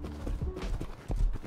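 Horse hooves clip-clopping in a survival video game, a few uneven hoof thuds close by at a moderate level with no talking.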